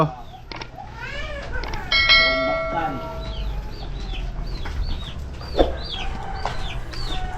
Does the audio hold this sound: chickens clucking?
yes